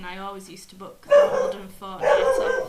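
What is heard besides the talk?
dog barking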